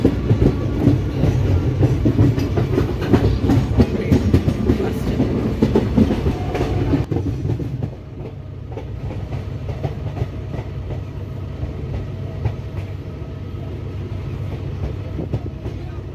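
The Maa Tara Express from Sealdah to Bolpur Shantiniketan running on rails, a steady loud rumble with rhythmic clickety-clack of wheels, dropping to a quieter, smoother roll partway through.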